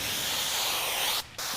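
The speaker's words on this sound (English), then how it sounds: "spray again. Here I use my slip solution, the Ape slip solution for this" Ape slip solution sprayed from a bottle while fitting paint protection film: a close, steady hissing spray that runs for over a second, breaks off briefly, then starts again.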